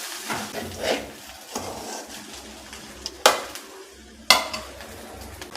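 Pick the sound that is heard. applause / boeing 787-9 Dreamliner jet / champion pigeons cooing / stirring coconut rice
stirring coconut rice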